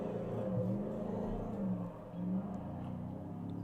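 Ford Raptor R pickup with a 760-horsepower V8 roars and revs under acceleration, a steady loud engine rumble with brief pitch swells, heard close throughout without talk.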